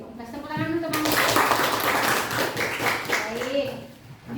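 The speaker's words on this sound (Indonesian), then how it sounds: "Kasih tepuk tangan teman-teman." Classmates clap for a few seconds in a classroom after a group presentation, a dense close patter of hands with children's voices mixed in.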